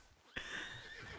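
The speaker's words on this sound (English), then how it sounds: "please tell that horse to step aside" A horse in a Wild West role-play game gives one clear, drawn-out whinny that rises sharply and trails off over a steady background bed, with no talk over it.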